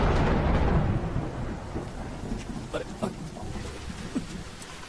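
Thunder rumbles and fades at the start over a downpour of rain. After that, steady hissing rain continues, with scattered drops ticking close by.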